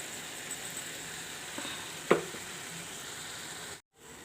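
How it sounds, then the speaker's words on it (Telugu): Steady hiss of ridge gourd curry frying in oil, with a single sharp clatter midway and a brief dropout near the end. No voices. "పొట్లకాయ కూర ఇలా వేగుతున్నప్పుడు"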